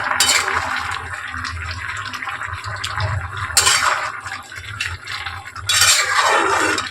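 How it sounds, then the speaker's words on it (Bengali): Pot of cooking lentils being checked, with a metal lid lifted and handled in a few clanking and scraping bursts over a low bubbling, simmering bed, no voices. "এখন আমি ঢাকনাটা খুলে দেখে নিচ্ছি ডালটা কিরকম সিদ্ধ হচ্ছে"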